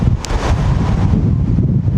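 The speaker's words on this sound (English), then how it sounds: "it is super windy" Strong wind roars and buffets the microphone outdoors beside a 2025 Subaru Solterra Premium, a steady, loud broadband rush filling the whole stretch with no talk.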